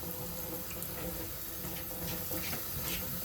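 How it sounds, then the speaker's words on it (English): Hot water running from a tap into a sink for wool felting, a steady, close, even gush and hiss that continues without a break and without speech. "I'm gonna get some hot water into the mix."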